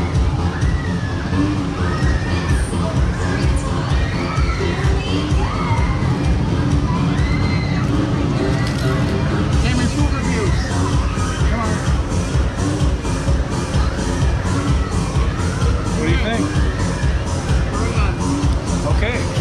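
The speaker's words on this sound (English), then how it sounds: "What is all this screaming? Is that one ride?" Crowd of people screaming on a fair ride at the Orange County Fair, a steady roar of distant screams and hubbub that runs the whole time, with nearby talk and crowd noise over it.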